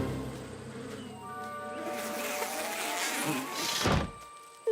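A swarm of cartoon bees buzzing from the My Little Pony animated series, a droning tonal hum that swells louder over a few seconds, then cuts off sharply near the end.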